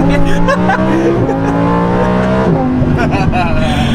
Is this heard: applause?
no